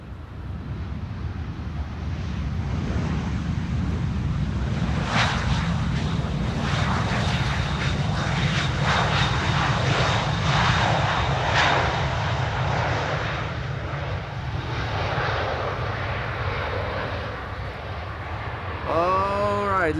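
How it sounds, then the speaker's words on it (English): A 19-year-old Irish-registered CRJ 900 jet airliner arrives at Amsterdam Schiphol on a windy day, its engines a loud, continuous roar that swells and lingers, with gusty wind noise throughout. "Mitsubishi CRJ 900 long range, 19 years old, Irish registered"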